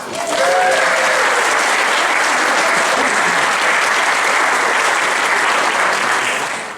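Sustained, loud audience applause with some cheering welcomes guitarist Paul Brett to the stage at a talk on fretless guitar, steady dense clapping rising quickly and holding throughout before tailing off at the end.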